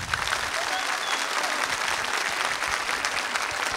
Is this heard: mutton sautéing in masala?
no